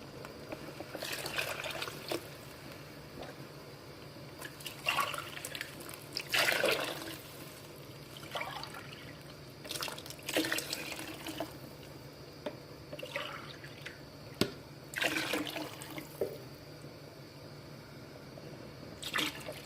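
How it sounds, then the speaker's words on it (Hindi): Water is poured into a cooking pot while making Arabic chicken biryani, coming as intermittent splashing trickles and pours in short bursts, fairly close and moderately loud, with no talking. "एक गिलास पानी शामिल कर लिया।"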